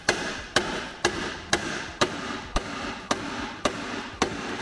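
Hammer blows striking to knock a ball joint pivot out of a VW Beetle's front suspension, about nine sharp, evenly spaced metallic strikes roughly every half second, close and loud with no talk.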